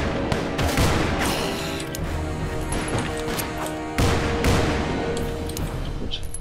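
Rapid gunshots in the video game Call of Juarez crack and boom in dense clusters, loud and close, with sharp repeated bursts and a heavy volley near the middle.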